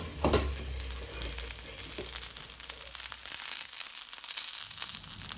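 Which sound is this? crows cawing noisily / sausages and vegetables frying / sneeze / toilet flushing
sausages and vegetables frying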